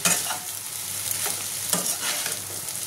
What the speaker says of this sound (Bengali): এটা আমি একটুখানি নাড়াচাড়া করে নেব, বেশি করবো না, একদম অল্প।